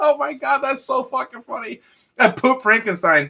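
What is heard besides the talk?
None of the usual background noises is heard.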